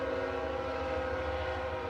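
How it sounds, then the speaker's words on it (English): A passing train heard from indoors through open windows, a sustained tonal rumble with a steady horn-like drone, moderately loud and even throughout, no talking. "Yes, there is a train."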